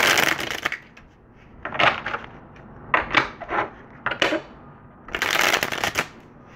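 A deck of tarot cards being shuffled up close, several crisp riffling bursts separated by short pauses, with no talk.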